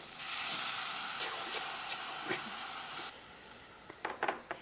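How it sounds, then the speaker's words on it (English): Wild rice toasts in a pan with a soft, steady sizzle and hiss. A few light scrapes and clicks come near the end. "I want to get it toasting in my pan"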